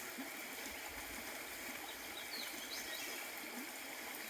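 A mountain creek flows in a continuous soft hiss and gurgle, faint and steady with small trickling splashes and no voices.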